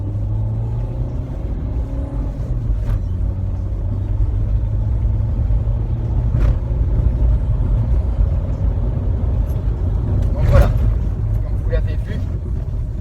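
A car pulls away in first gear with a slipping clutch, its engine a steady, loud, close rumble that rises slightly, while a voice talks over it.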